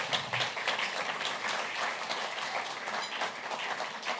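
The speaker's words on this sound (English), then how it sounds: "he deserves your applause" Audience applause at a journalism awards ceremony, a steady wash of many hands clapping that holds at moderate level without a break.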